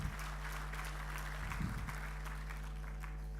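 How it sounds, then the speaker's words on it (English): Conference audience at a devolution conference clapping briefly, a soft, distant patter of applause in a large hall, rising slightly midway, with no clear cheering voices. "Give them a cheer."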